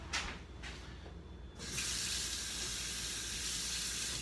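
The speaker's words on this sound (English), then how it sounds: "I'm going to put some water in there." Warm tap water runs from a kitchen faucet into a bowl holding sourdough starter, starting as a few short spurts and then flowing as a steady, loud, continuous splashing stream.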